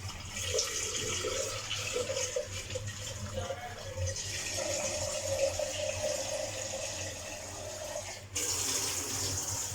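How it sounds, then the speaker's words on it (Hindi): Water runs and splashes steadily into a blender jug in a home kitchen while cooking chicken curry, a soft continuous pour that shifts in tone and briefly cuts off near the end. "बस अब ये मैं पानी डाल रही हूँ"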